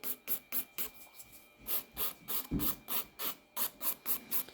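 A 180 grit nail file is rubbed over a gel nail tip in quick, rhythmic strokes, about a dozen close, dry rasping scrapes that come in regular succession.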